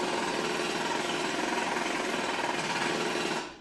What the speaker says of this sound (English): So conventional methods, demolition hammers, 85 to 100 decibels, or the rotary hammer.